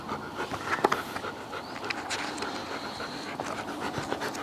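Zeus the dog panting steadily and close, a continuous rapid breathing rhythm with a few small clicks and rustles over it.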